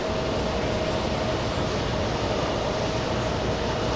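A WestJet Boeing 737 moving on the ground at JFK airport gives off a loud, steady broadband jet roar and rumble with a faint tonal whine, unbroken and constant.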